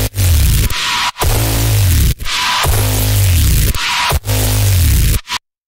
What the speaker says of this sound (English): I also created very less conventional patches